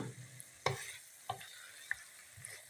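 Chopped vegetables with chillies stirred in a frying pan for an aloo matar gajar sabzi: a soft, faint sizzle with a few sharp, separate spoon clacks against the pan, and no talking.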